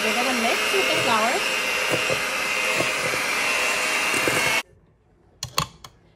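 Electric hand mixer whirring steadily as flour is beaten into chocolate chip cookie dough, a loud continuous drone that cuts off abruptly, leaving a few faint clatters.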